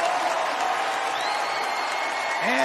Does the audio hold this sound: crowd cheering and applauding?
yes